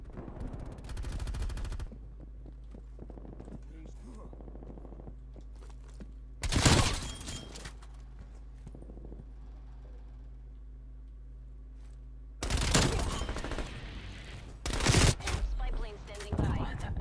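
LC-10 submachine gun fire in Black Ops Cold War multiplayer, several loud, dense automatic bursts of a few seconds each, separated by stretches of quieter game ambience.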